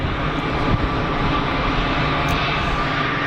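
A Delta Boeing 767 taxis toward the holding point at Geneva Airport, a steady, loud broadband jet-engine roar that holds evenly throughout with no talking.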